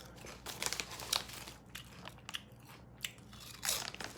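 Close, crisp crunching bites and chewing of Italian red meat flavored potato chips, several sharp crunches in quick bursts with brief pauses between them, with bag crinkles and no talk.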